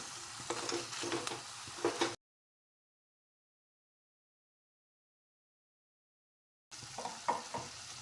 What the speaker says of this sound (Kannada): ಹಾಕ್ಕೊಂಡ್ಬಿಟ್ಟು ಚೆನ್ನಾಗಿ ತಿರುಗ್ಕೊಳ್ಳೋಣ.